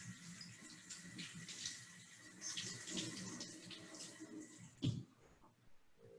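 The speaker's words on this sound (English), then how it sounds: "wash my hands" Hands being washed under a running kitchen tap while making frozen candy treats, a soft steady splash of water with a brief louder gush near the end.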